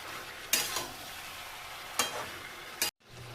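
Ginger-garlic paste is stirred into chicken in a sizzling pan, with three loud scraping stirs over a steady fry before a sudden brief cut to near silence.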